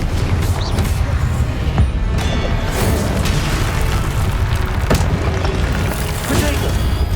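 Confringo fire blast spell explosions in the video game Hogwarts Legacy, a loud continuous rumble of booming blasts and bursts, with a voice speaking under the noise.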